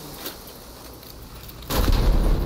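Cannon fire in the video game Battlefield 1, a sudden heavy boom that cuts in after a stretch of low battlefield rumble and rolls on loud and close.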